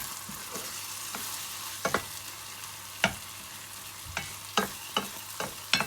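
Tomatoes cook down into a thick, mushy curry base in a pan, with a soft, continuous sizzle broken by intermittent scrapes and taps as they are mashed and stirred; no voices.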